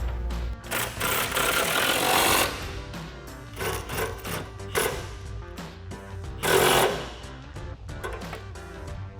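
A power tool tightens 13mm suspension bolts on a 2015-2024 Mustang while lowering springs are installed. Loud whirring bursts come in several separate runs, with short pauses between them.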